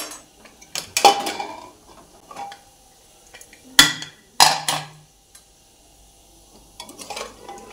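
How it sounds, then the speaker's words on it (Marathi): A pressure cooker holding cooked mutton trotters is opened after the steam has gone, giving a few sharp metallic clanks and scrapes of lid and pot at close range between quiet stretches. "आपण आता कुकर उघडून बघूया।"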